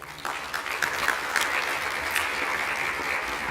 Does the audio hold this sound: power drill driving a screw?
no